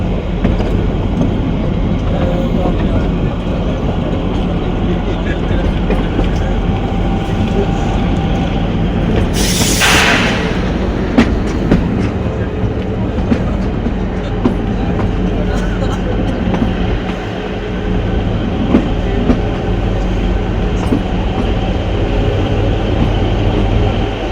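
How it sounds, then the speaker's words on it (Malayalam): A toy train on the Kalka–Shimla mountain railway rumbles steadily along the tracks, a continuous loud roar with faint rhythmic clatter and a brief hiss partway through. "ഷോഗി റെയിൽവേ സ്റ്റേഷനിൽ ട്രെയിൻ ഡിപ്പാർട്ട് ചെയ്തിട്ടാ"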